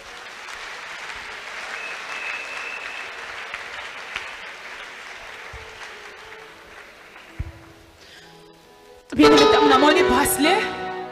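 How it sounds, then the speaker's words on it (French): Sudden loud applause and cheering erupt from a church congregation at a worship service, a dense burst of clapping and voices, after a stretch of quieter room sound with speech. "On acclame le Seigneur."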